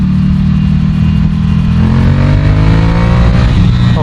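Ducati Scrambler Café Racer engine revving hard and held near the rev limiter, a loud, sustained, rising engine roar heard up close with no pause.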